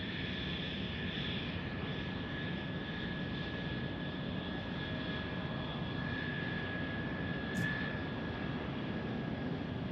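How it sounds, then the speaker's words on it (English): Southwest Airlines airliner landing at Tucson airport, a steady, even engine roar with a faint high whine, held at constant loudness throughout, with no voices. "Southwest Airlines landing"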